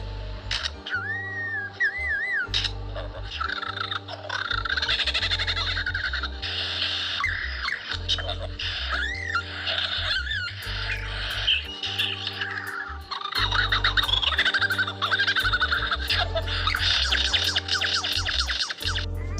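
A bird pours out a varied stream of whistles, chirps and squeaky calls imitating other sounds, with a low rhythmic pulsing beat underneath throughout.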